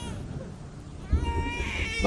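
A child whimpers and cries after being attacked in the game Where Winds Meet; a brief, wavering cry rises near the end over low background game noise.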